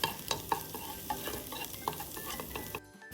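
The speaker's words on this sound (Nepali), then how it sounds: "लसुन र अदरकको पेस्ट हालेर हामी एकछिन भुन्छौँ" Garlic-ginger paste with chili powder sizzles and crackles in a hot pan, a steady close frying hiss broken by spatula scrapes and ticks, the sound dropping away abruptly near the end.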